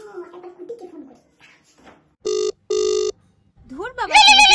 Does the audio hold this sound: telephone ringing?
yes